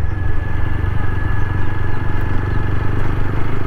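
A motorcycle is ridden along a road running through water that looks like open sea, its engine a loud, steady low throb with wind rumble that continues unbroken and has no voices over it.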